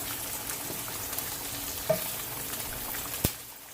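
Green plantains and bacon frying in a pan, Jamaican style: a dense, steady sizzle with two sharper clacks as pieces are turned, close and without talk.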